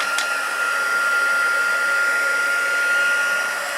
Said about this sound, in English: Back in with my heat tool. Make sure this is warmed up.